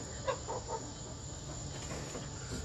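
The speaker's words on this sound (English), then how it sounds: "Man, those chickens over there, they acting up." Chickens cluck a few times behind a wall, muffled and fairly distant, in short bursts near the start, then fade into a faint steady background hum.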